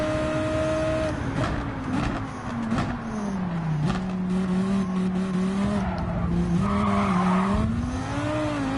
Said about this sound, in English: Wow, they're crashing already.